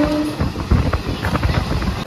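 A passenger train moving at about 112 km/h on the way to Tarapith, heard from inside as a steady rumble with a faint rhythmic clatter of wheels on rail joints.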